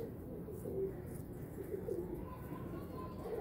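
Golden pigeons, strong fliers, give a few low, muffled coos at a distance beneath someone talking nearby.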